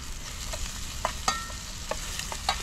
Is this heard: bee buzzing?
no